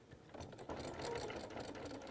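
Sewing machine stitching binding along the edge of a quilt, a steady fast whirring hum that holds at an even level for the whole stretch, close by with no talking.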